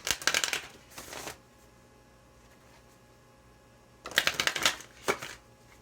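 A Moonology tarot deck being shuffled, with two bursts of quick riffling card flutters separated by a quiet pause, close and crisp.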